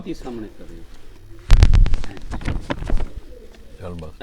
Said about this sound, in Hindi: छल्लों वाला ये जो कबूतर आप आसम भाई के हाथ में देख रहे हैं